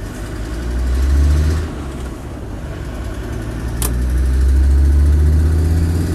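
Land Rover Defender 90 TD5 County station wagon diesel engine idling steadily with a low rumbling throb, swelling slightly louder twice, with a brief click midway and no talk.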